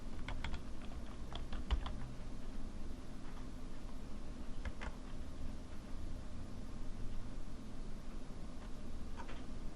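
Someone types a password on a computer keyboard in a quiet room. There are several short bursts of soft, close key clicks separated by pauses, with a steady low hum underneath.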